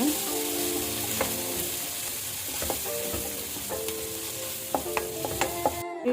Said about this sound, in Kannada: ಇದನ್ನೆಲ್ಲ ಚೆನ್ನಾಗಿ ಫ್ರೈ ಮಾಡ್ಕೊಳ್ಳೋಣ